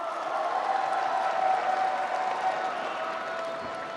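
An indoor crowd at a People Power Party national convention applauds emergency committee chairman Chung Jin-suk, a dense, even, sustained clapping that holds steady throughout, with a faint tone running underneath.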